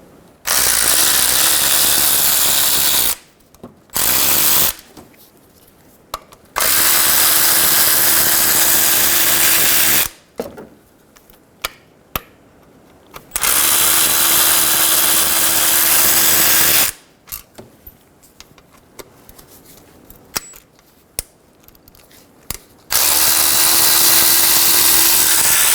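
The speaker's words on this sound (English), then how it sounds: "Remove the 4 bolts going through the timing cover to the oil pan using an 8mm" A power tool with an 8mm socket spins out the bolts joining the timing cover to the oil pan on a 2000-2007 Ford Focus, loud sustained whirring runs in four long bursts with short pauses and clicks between.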